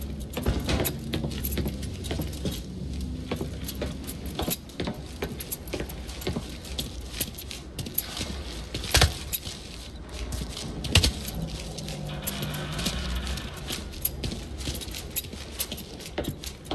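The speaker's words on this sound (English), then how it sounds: "Keys in the other room. Grab them so we can get the hell out of here." In the video game Mafia 3, keys jangle and clink in repeated bursts over a steady low background rumble from a nearby vehicle, with no talking.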